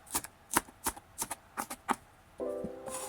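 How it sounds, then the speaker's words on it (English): A knife chopping green onions into small pieces on a board, about a dozen quick, crisp taps in an uneven rhythm, close and clear, followed by a brief clattering, tonal scrape at the end. "let's cut green onions into small pieces"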